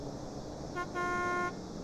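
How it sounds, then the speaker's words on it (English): A truck horn sounds in American Truck Simulator: a short blast, a brief gap, then a longer steady honk over a low engine rumble, with no talking. "No honking."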